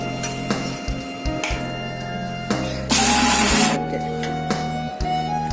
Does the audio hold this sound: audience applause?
no